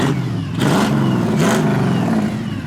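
A 1963 Chevrolet Nova convertible's 350 engine revs hard twice through a throaty exhaust, each rise and fall close and loud over a steady rumbling idle.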